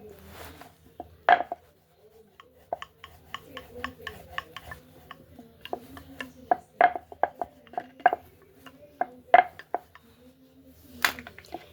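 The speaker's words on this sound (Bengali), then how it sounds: "তারপরে আমি এটাকে বেলে নিচ্ছি" Paratha dough made with cholar dal being rolled out on a board, giving soft, irregular scraping and tapping strokes of varying loudness under a low steady hum.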